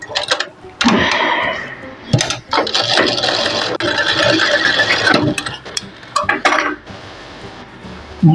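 A sewing machine stitches blouse fabric in short, loud bursts of rapid mechanical clatter separated by brief pauses, with a few sharp ticks and knocks between runs.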